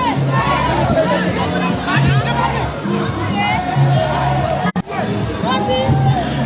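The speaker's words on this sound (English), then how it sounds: "give you a picture as the crowd goes so you can see for yourself how large the crowd is" A large outdoor crowd in Liberia fills the air with a dense, continuous murmur of many voices, some shouts standing out, while someone talks close by over it.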